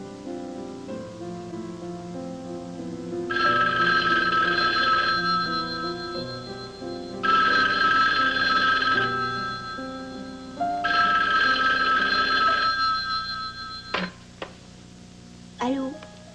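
A telephone rings three times in long, loud, even bursts with short pauses between them, indoors, then a few brief clicks and handling sounds follow.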